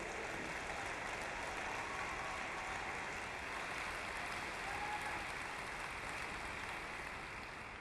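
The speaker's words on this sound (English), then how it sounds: "Well, you can applaud Esther." A large audience at the 2012 AIPAC policy conference applauds in a continuous, even wash of clapping that holds steady for several seconds, heard from a distance with no speech over it.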